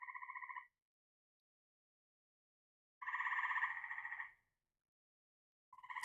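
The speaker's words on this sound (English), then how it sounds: "They turning up now. Y'all got to hear the frogs." Pulsing, buzzy frog calls in bursts separated by silence, a trilling chorus that starts, stops, and starts again, fairly close.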